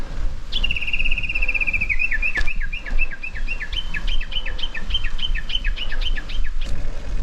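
A nightingale sings close by in Japan's Shinshu region, a long run of bright whistled notes that turns into rapid repeating phrases over steady background hiss, with no talking.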